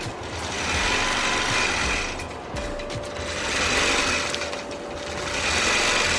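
A longarm quilting machine stitches an antique quilt with a continuous, close mechanical hum and rapid needle rattle that swells and fades as it moves across.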